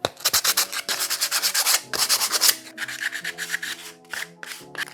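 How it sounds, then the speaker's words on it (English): Cut wooden pieces for a DIY planter being roughly sanded to remove harsh edges, giving loud, close, rhythmic back-and-forth scraping strokes that run steadily with brief pauses, no talking. "I need to roughly sand them down, just so there are no harsh edges"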